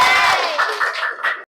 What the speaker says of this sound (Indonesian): Oke, tepuk tangan untuk semuanya.